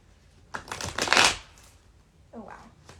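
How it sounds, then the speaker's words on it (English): A tarot deck is shuffled close by, giving a crisp riffling burst of cards followed by a shorter, softer second shuffle. "Gonna give it one more shuffle."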